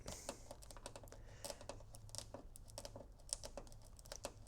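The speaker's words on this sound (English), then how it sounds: "Just need to use a plastic pry bar and just kind of work on that tape and it'll eventually separate." A plastic pry bar works at double-sided tape to peel it from a plastic part of a Fisker Ocean door handle, giving quiet irregular clicks, ticks and crinkling scrapes at close range with no talking.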